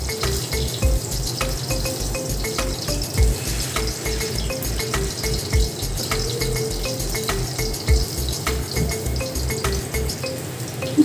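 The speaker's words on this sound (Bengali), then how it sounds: "একদম লো হিটে ডিমটা আমি ভেজে নিব।" An egg fries slowly in a pan on low heat, giving a steady, soft sizzle with a faint regular ticking and no talk.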